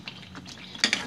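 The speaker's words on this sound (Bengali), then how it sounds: "এখনো চলছে দেখুন, ক্রমাগত নেড়ে চলেছি যাতে নিচে না লেগে" Boneless chicken chaap masala stirred continuously in hot oil, a short burst of scraping and clinking of a spatula against the pan over a faint sizzle, with no voices.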